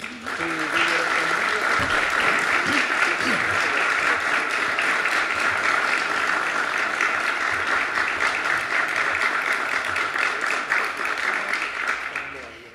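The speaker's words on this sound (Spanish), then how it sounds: "comenzamos este acto con un fuerte aplauso" A crowd gives a strong round of applause to open an environmental awareness event, the dense clapping loud and steady throughout, with a brief voice near the start.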